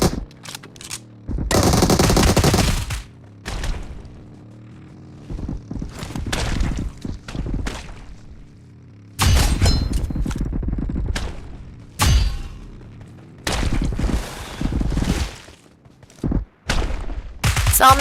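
Gunfire in the battle royale game PUBG: several loud bursts of automatic fire and single shots, separated by quieter gaps with background game noise.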